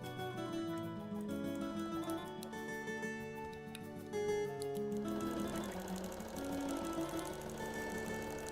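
A sewing machine stitches the outer edge of a custom quilt, giving a continuous, even mechanical whir with a rapid steady rhythm and a slight shift in tone partway through.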